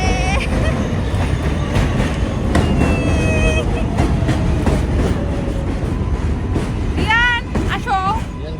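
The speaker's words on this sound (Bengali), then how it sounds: "আমাদের ট্রেন চলে আসছে" A train pulls into a station with a loud, continuous rumble and clatter of wheels, high metallic brake squeals near the end, and people talking over the noise.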